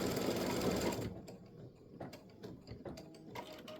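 A home embroidery machine stitches free-standing lace bat earrings, its needle mechanism chattering in a steady, rapid mechanical rhythm, loud and busy at first, then quieter with intermittent clicks and ratcheting, no voices.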